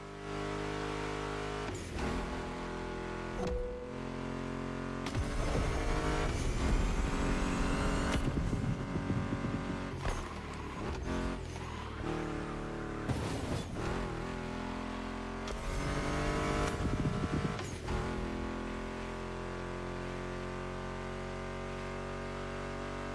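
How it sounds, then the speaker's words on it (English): Roaring muscle car engines, including a Mustang GT, rev and accelerate repeatedly in the racing game The Crew Motorfest, loud and close, with gear shifts and sustained high-pitched whines. "Meshes well with the sound of the engines"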